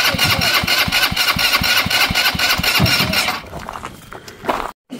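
Junky go-kart engine cranking and trying to start, a loud rhythmic chugging of steady regular pulses for about three seconds, then it dies away to quieter rattling and a brief thump.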